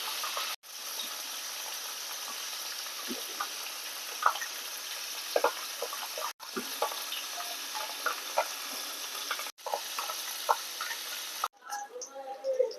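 Fish sizzle and crackle steadily in hot oil for a fish curry, a continuous close frying hiss broken by a few brief cuts and small pops, with no talk.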